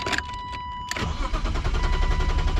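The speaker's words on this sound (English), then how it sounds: "it's cranking. It's gonna start." A BMW E36 328iS with no fuel and no spark cranks on its starter: a few sharp clicks, then a steady, loud, rhythmic churning whir that carries on without catching.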